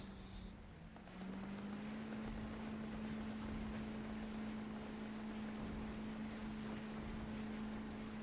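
Boat engines cruise along a beach in the Arma video game as a steady droning motor hum under constant wind and surf noise that lasts the whole stretch.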